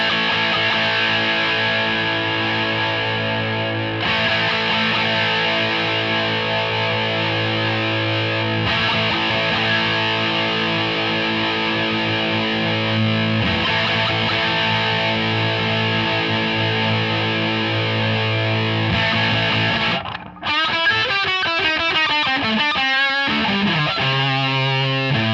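Sustained electric guitar tones through a Mooer Black Secret distortion pedal ring steadily, the gritty texture shifting as the distortion knob turns, then a faster run of picked notes near the end.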